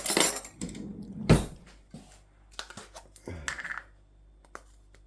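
A small spoon and cutlery clink and rattle while being handled during baking with bicarbonate of soda and vanilla extract, a few sharp close metallic knocks scattered among quieter handling noises.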